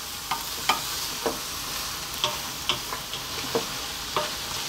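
Vegetables stir-fried in sesame oil in a hot pan, a steady sizzle broken by the scrape and clatter of stirring at irregular intervals, close and clear with no talk.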